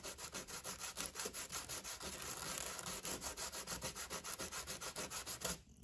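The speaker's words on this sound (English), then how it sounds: "So sometimes you need to sand a little bit to just smooth it out and get it back to 90." A wooden workpiece cut for a hollow box is hand-sanded smooth and square, giving close, steady back-and-forth rasping strokes in an even rhythm for several seconds before stopping abruptly.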